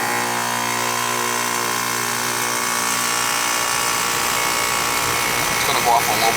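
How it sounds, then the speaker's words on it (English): An old, crusty air conditioner with a leaking coil and very low R-410A refrigerant runs its compressor with a steady, droning electric hum and buzz throughout, with voices talking over it. "Let's see if the compressor starts."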